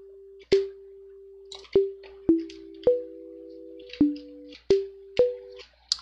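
Chiptune synth notes on a few pitches, each struck with a sharp click and then held in a thin tone that trails off with a long fake-sustain decay, about nine notes in an uneven sequence, clean and alone.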